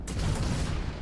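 A spaceship's particle weapon discharging in the game Starfield, one sharp burst at the start that rolls into a low, rumbling blast, moderately loud and heard alone.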